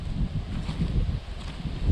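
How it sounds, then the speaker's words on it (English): Wind buffeting an outdoor microphone at a heritage centre with a working railway in Barnsley, a steady low rumbling roar with gusty swells throughout and no voices. "Sorry about the wind"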